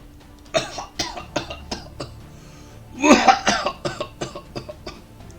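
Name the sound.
player imitating a character coughing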